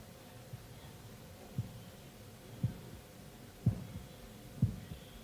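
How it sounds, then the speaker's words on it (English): Heartbeat sound from a classic Doctor Who episode: faint low thumps about once per second, growing slightly stronger over a soft hiss, with no one speaking. "Is that a heartbeat or what is that?"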